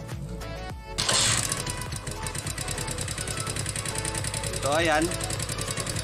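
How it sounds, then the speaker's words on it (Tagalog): Keeyway cafe racer 152 motorcycle starting up and idling with a rough, rapid valve tappet clatter, a steady mechanical ticking close by, with someone speaking briefly over it. "start ko muna tong motor na to para marinig natin yung lagitik na tinatawag ng iba"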